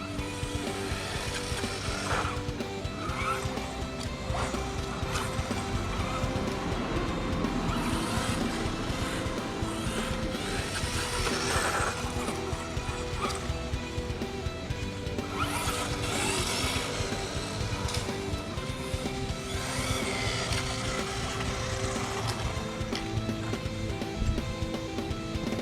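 A WLToys 104001 RC buggy drives continuously with a buzzing electric motor that rises and falls with throttle, plus the patter of tires over the ground, steady and fairly close.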